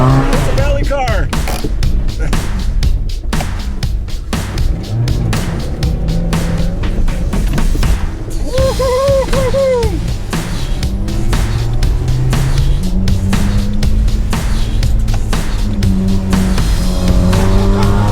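Toyota Tercel rally car driving hard, its engine rising and falling loudly throughout, with a short burst of squealing tires midway; voices can be heard over the engine at times.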